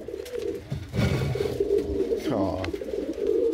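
A pet pigeon coos softly and close by while someone speaks to it warmly, her voice mixing with the low rolling coos.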